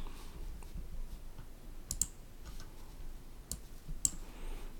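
A computer mouse gives a few faint, sharp clicks about two seconds apart over quiet room hiss.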